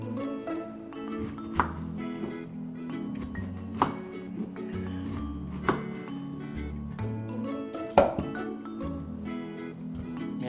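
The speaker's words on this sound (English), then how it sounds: "And then you chop it." A knife chops through a fresh pineapple in sharp, widely spaced thunks roughly every two seconds, close and distinct over a steady bed of background music.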